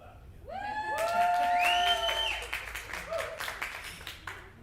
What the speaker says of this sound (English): Come on, let's whistle and clap